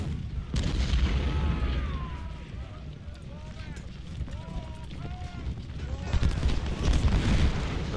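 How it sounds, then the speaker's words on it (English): Cannon artillery fire in the Civil War strategy game Ultimate General: Civil War, dull booms scattered across the scene with whistling shells and battle noise, while a voice talks over it. "All the cannons are going to start opening up because they haven't had anything to do yet."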